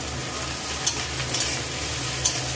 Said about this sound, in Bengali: দিয়ে ভালো করে নাড়াচাড়া করে ভাজা ভাজা করে নেব